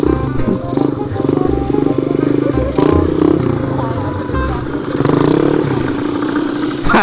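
Motorcycles race along with loud, close engine drones that rise and fall, and a rider's voice is heard over the noise now and then.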